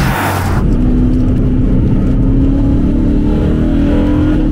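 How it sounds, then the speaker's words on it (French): A BMW M3 E92 engine with Eventuri intake and Akrapovic exhaust rumbles steadily and close by, its tone shifting slightly as the revs change through a downshift, with intake airbox sound. "ce bruit de boîte à air, on le ressent même au rétrogradage"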